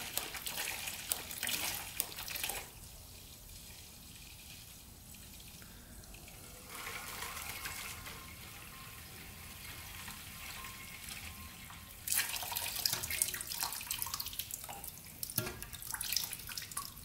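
Old, dark fuel draining from a scrap-pile moped's fuel tank, a continuous trickling and splattering liquid stream that shifts in level and texture over several seconds, close by with no talking.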